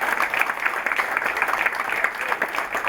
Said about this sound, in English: Steve deserves a round of applause for that